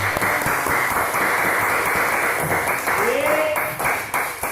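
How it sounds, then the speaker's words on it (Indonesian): A group of children in an Indonesian classroom claps in a brisk, uneven burst while voices chatter over it, with a voice rising briefly near the end. "Tepuk tangan semuanya."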